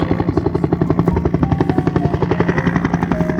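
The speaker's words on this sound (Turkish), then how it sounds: "Bu bir helikopter. Helikopterlerin sesi işte böyledir." Steady rapid thumping of helicopter rotor blades with an engine drone, loud and close, rhythmic throughout.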